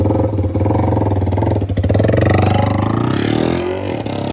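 A Yamaha R15 V4 motorcycle fitted with an Arrow exhaust idles loud and close with a deep, steady throbbing burble, swelling slightly in a brief blip midway before settling.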